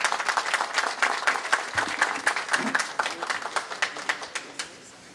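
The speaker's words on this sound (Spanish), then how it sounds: "La recibimos con un fuerte aplauso" An audience welcomes a speaker with applause at a ceremony for a remodelled municipal bakery, individual claps crisp and distinct in a lively, continuous patter that stays fairly even to the end.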